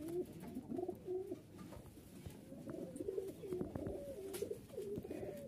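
Rajshahi Giribaz pigeons, including a black male and his paired hen, coo in a steady run of soft throaty calls that overlap and repeat close by, with no talk.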